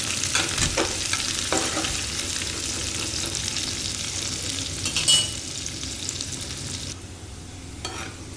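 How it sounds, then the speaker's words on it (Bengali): Onion and mixed vegetables frying in a pan, a close continuous sizzle with occasional stirring scrapes and clinks, no talk. "আর বন্ধুরা সামান্য একটু পেঁয়াজ দিয়ে দেবো। দিয়ে সবজিটাকে ভাজবো।"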